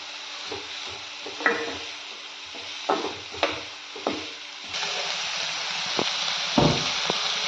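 Onions frying in a pan with green chillies, a soft steady sizzle broken by intermittent scraping and stirring knocks from a spatula, close by with no talking.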